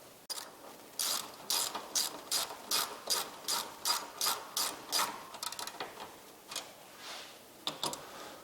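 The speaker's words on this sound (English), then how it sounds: "So while I'm tightening these down, I'm only going until they're snug" A ratchet wrench tightens fasteners on a Bestop Trektop Pro soft top during installation. It gives about a dozen crisp, evenly spaced clicking bursts, then a quicker, ragged run of clicks, close and alone.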